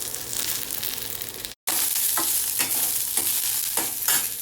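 Drumstick and okra pieces frying in a pan, a steady loud sizzle with repeated stirring scrapes at an even rhythm, broken by one brief cut near the start.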